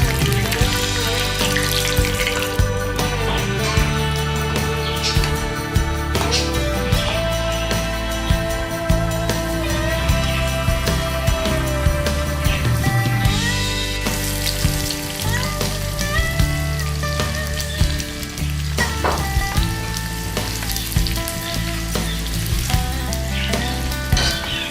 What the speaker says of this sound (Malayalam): അതിലേക്ക് അണ്ടിപ്പരിപ്പും കിസ്മിസും ചെറിയ ഉള്ളി അരിഞ്ഞതും ചേർത്ത് നല്ലോണം വറുത്തെടുക്കുക